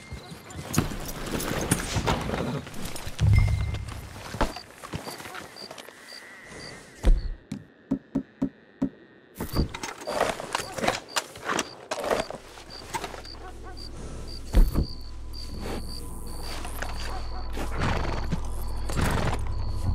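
Horses in the Red Dead Redemption 2 video game, with a whinny and rhythmic hoof clip-clops amid game ambience and background noise, heard under occasional character voices.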